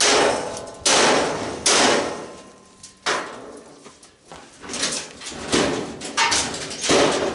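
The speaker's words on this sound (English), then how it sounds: "where's my big hammer?" A big hammer slamming into a clothes dryer being scrapped, several loud metallic whacks spaced a second or so apart, ringing and rattling between blows.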